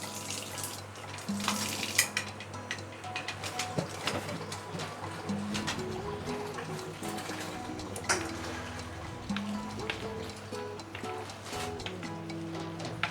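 A pot of broth with noodles bubbles and simmers with a soft, continuous churning, occasional light clinks of utensils over it.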